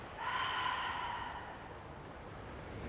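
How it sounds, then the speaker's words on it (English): A slow, soft exhale through the nose during yoga breathing, one long breath that fades out over a couple of seconds, close and quiet. "And a simple, sweet exhale"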